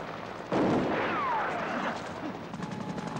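Gunfire erupts in an Iranian action film, a sudden loud burst followed by rolling reverberant blasts and a whistling ricochet-like streak that fades after a couple of seconds.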